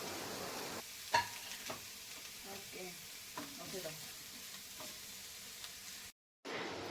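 Onions, green chilies and curry leaves sautéing in hot oil for an egg dish, a faint steady sizzle with occasional soft stirring clicks, heard close and quiet with no talking.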